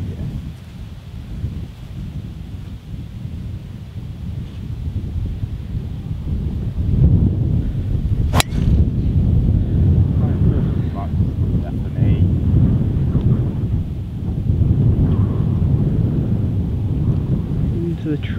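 Strong wind blows steadily on an open golf course, buffeting the microphone with a continuous low rumble and gusts that strengthen partway through. Faint voices may sit under the noise.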